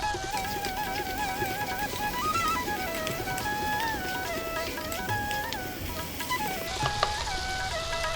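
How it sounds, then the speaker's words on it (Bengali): Spice paste with chili powder fries in oil for a cauliflower and potato curry, a continuous sizzle under prominent background music, with a brief scrape near the end. "মশলাটা কষতে শুরু করে দিয়েছে, তেল ছেড়ে আসছে।"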